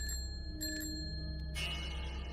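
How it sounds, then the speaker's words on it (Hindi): A bicycle bell on a quiet rural path at night, part of a Hindi ghost story, rings faintly in a few short bright dings with a hissing wind-like background. "साइकिल की घंटी सुनाई दी।"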